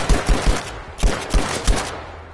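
Gunfire in the video game Battlefield 5, several sharp bursts of rapid shots in two clusters, loud and close, with no talking.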